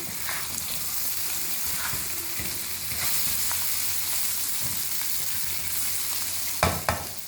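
Stuffed okra frying in a pan with a continuous close sizzle while being stirred and turned, with a couple of sharper clatters near the end.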